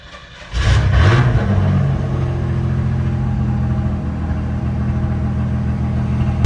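A truck engine cranks and catches with a quick rev, then settles into a loud, steady low rumble of idling that carries on close by.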